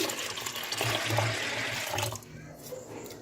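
Water pours from a tap onto mixed lentils soaking in a bowl, a steady close splashing rush that stops abruptly partway through, leaving quiet room tone.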